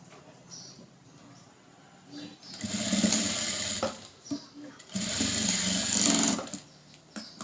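A sewing machine stitches a folded seam on a designer blouse in two sustained whirring runs, each a couple of seconds long, separated by a brief pause with quieter handling sounds.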